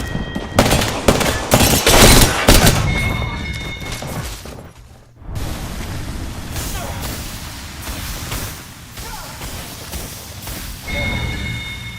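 Gunfire in the Apex Legends video game: bursts of rapid shots and sharp impacts in the first seconds, a short lull, then continued dense game action with scattered shots and tonal effects, fairly loud.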